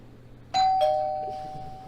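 A doorbell chimes as a two-tone ding-dong, with two clear, close ringing notes whose tones fade slowly over a quiet background.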